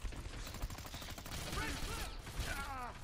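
Gunfire in the video game Hitman Absolution, a steady rapid chatter of shots running through the whole stretch, close and sustained, with someone talking over it.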